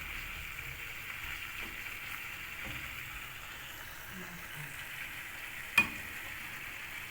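Vegetables sauté in a pan for homemade chicken shawarma, a steady soft sizzle with faint stirring ticks running throughout, plus one sharp click near the end.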